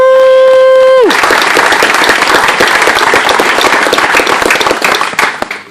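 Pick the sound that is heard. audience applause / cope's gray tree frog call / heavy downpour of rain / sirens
audience applause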